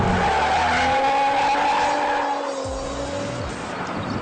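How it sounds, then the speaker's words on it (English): A 2014 Hyundai Genesis Coupe 3.8L drifts with its tires squealing loudly in long sliding screeches over engine revs, close by and without talk. "It's so much fun to drift this thing."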